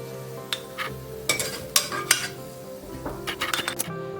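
A metal spoon lifts fried shallots out of a frying pan of hot oil, making sharp scrapes and clinks against the pan in irregular bursts over a soft, continuous sizzle, with no voices.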